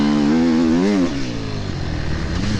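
Enduro motorcycle engine at a sprint enduro event, loud and close, revving high then dropping into a steady rougher drone as the rider works through bumpy terrain.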